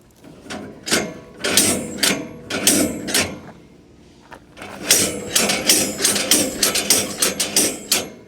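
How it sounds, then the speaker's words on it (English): A handle shakes the spiral shakers inside a pellet stove, giving rattling metallic clanks in bursts: a few spaced shakes, a pause, then a faster run of about a dozen close knocks. "And just give it a good half dozen shakes."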